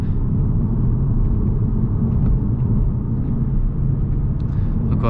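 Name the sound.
Cupra Leon ABT car driving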